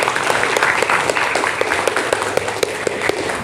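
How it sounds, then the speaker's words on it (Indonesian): Students clap together at a morning school gathering, a steady dense applause of many hands lasting throughout, moderately loud with no talk over it. "Tepuk tangan untuk kalian semuanya."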